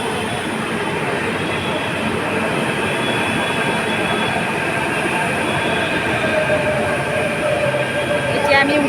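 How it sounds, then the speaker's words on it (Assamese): A metro train arrives at a busy station with a loud continuous rumble and hiss of wheels on rails, faint squeals rising near the end, steady and close throughout. "ফাইনেলি গাইজ মেট্ৰ' আহি গৈছে"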